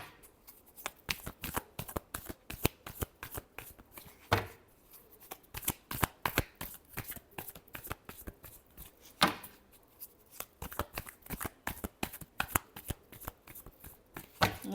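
Tarot cards are shuffled up close in a long run of fast, crisp riffling bursts with steady flicking clatter, occasional sharper slaps, and no talking.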